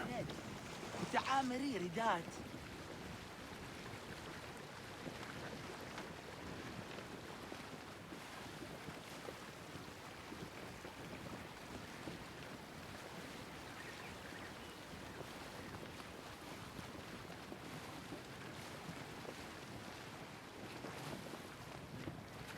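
Boat moving over water in the game Discovery Tour Ancient Egypt, a steady soft wash of water and wind noise running throughout, with a brief louder splash near the start.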